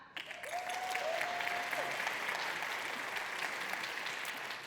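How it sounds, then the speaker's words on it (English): A conference audience at a closing keynote breaks into applause, a continuous, even patter of many hands clapping at a moderate distance, with a brief tonal sound near the start. "Let's do a clap."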